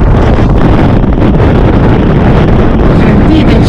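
Strong wind on the Icelandic coast, a loud, unbroken rush that buffets the microphone with heavy low rumble for the whole stretch, no voices audible.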